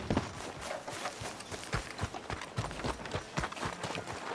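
Horse galloping in Red Dead Redemption 2, a fast, continuous run of hoofbeats with a steady rhythm, fairly close but quiet, with no voices over it.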